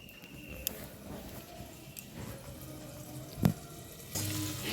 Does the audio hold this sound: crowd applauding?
no